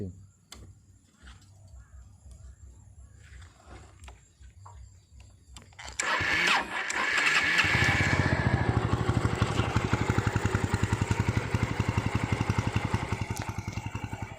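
A used Kawasaki Boss 175cc motorcycle starts partway through after quiet handling sounds, then settles into a steady, close, loud idle with a rhythmic single-cylinder putter.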